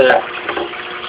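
Water from a turtle tank's filter pump pours back through a pipe into the tank, a close, steady splashing trickle that runs without a break.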